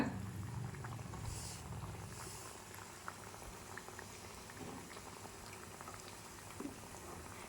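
Bottle gourd bajji sizzling as it fries in hot oil, a steady dense crackle and bubbling that runs the whole time at close range, with no voices.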